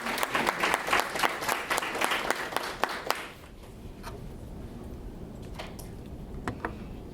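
Applause for the planning committee of a higher education summit, a burst of dense clapping from an audience that lasts about three seconds, then drops away abruptly to quiet room tone with a few scattered claps.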